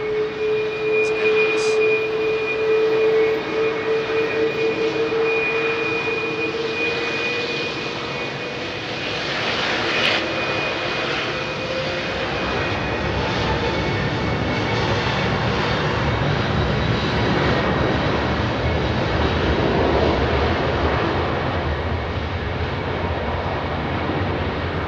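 A jet airliner departs Heathrow with a loud, sustained engine roar carrying a tonal whine that slowly falls in pitch, the rumble thickening in the second half as the aircraft passes nearby.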